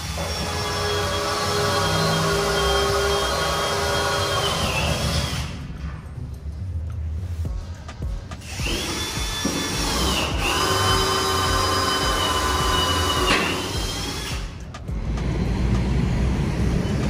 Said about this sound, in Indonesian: Jadi tiap-tiap tulang besinya dibor